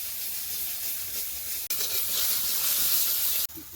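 Bengali ground spice paste and ginger frying in a pan for biryani, a steady loud hiss and sizzle with two abrupt breaks in the noise, no talk.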